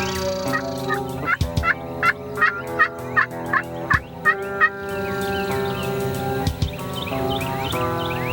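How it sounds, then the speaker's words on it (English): Wild turkeys gobble again and again during a Georgia spring hunt, a run of rattling calls repeating about every half second in a fairly close flock, with overlapping clucks and gobbles continuing afterward. "did you hear any gobbles?"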